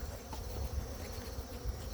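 Honeybees buzz around an open hive box on a cloudy day, a steady low drone close by that holds evenly throughout.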